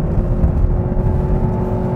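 A Ford S-MAX hybrid minivan accelerates at full throttle, its engine giving a loud, steady, continuous droning whir with no gear-change breaks.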